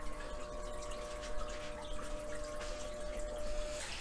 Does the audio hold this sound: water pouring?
yes